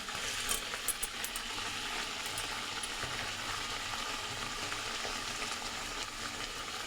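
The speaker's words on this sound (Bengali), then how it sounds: "এবার মশলাটা দিয়ে ভেজে নেব" Spice paste with salt fries in a pan for a tomato fish curry, giving a continuous soft sizzle with occasional faint clinks, steady and close, with no voices.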